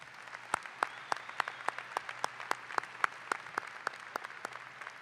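Sparse, distinct claps from a small graduation audience, individual hand strikes spaced irregularly over a faint hum, quiet and fairly distant.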